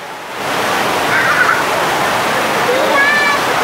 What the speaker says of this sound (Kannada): ನೀರು ಬರ್ತಾ ಇರುತ್ತೆ, ಅಲ್ಲಿಂದ ಬಂದು ಈ ಬಂಡೆಗಳ ಮೇಲೆ ಬಿದ್ದು